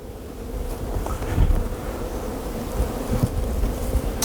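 Honeybees hum in a steady, close drone at an open beehive, a thick continuous buzz with faint wind behind it and no voices.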